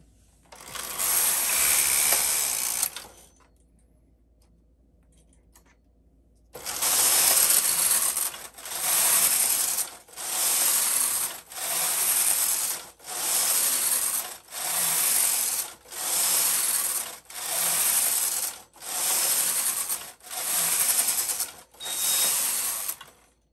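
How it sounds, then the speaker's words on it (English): Carriage of a Brother KH-950 knitting machine sweeping back and forth across the needle bed, a loud rasping, clattering pass repeated about ten times in a steady rhythm after a brief pause, close and alone. "I will continue knitting"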